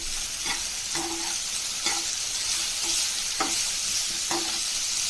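Slices of bitter gourd (karela) frying crisp in a pan give a steady hiss and sizzle, with regular stirring scrapes about every second and no voices.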